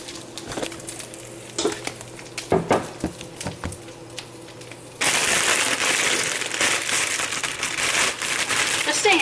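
Spinach going into a frying pan of browning garlic, with scattered clinks and stirring noises at first, then a sudden loud, steady sizzle that holds to the end.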